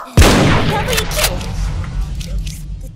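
An MSR-200 sniper rifle in the shooter game Sudden Attack fires one sharp, loud close-range shot that lands a headshot multikill, and its echoing report decays over the next few seconds.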